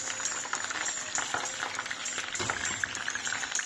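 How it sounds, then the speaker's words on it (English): Onion frying in hot oil, a dense crackling sizzle with quick bursts of spattering and occasional stirring, close and fairly soft. "I will leave my onion for some time to fry"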